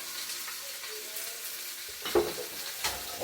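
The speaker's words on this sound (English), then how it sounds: "let's put a little bit of garlic oil in the pan" Garlic oil sizzles quietly in a frying pan with a soft, steady hiss and a couple of light clinks from stirring, close to the microphone with no talking.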